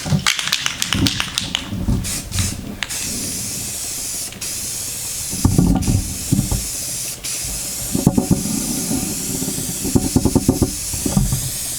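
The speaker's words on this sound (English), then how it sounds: "In this case, I'm simply going to use spray paint, hasten up this video." Spray paint hissing onto an epoxy surface as a white base coat, in repeated short bursts with pauses between passes, fairly close and loud, with no talking.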